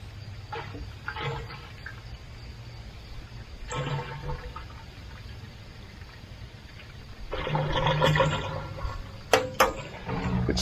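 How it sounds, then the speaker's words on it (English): Liquid pours and trickles in bursts from a spout outdoors against a steady low hum, with splashy stretches around the middle and end and a few sharp clinks. "Turn the spout up a little bit, you get a better pour."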